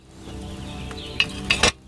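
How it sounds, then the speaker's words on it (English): Bubbling potion cauldron over a flame in Kingdom Come Deliverance 2, a short stretch of soft simmering and sizzling capped by a few bright metallic clinks. "Hear that bubbling? It's boiling."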